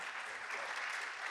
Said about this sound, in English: Please applaud René.